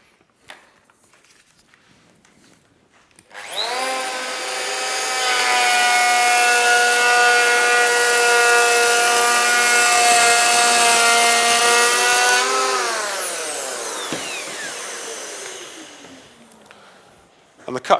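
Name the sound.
Festool EHL65EQ planer cutting wood 2mm deep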